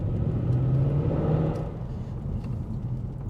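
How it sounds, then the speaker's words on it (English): A Mercedes C63 AMG W204 gives off a deep, steady engine rumble, close and continuous, that swells slightly under throttle and then settles back to a lower, even drone. "The roar this thing makes is just perfect."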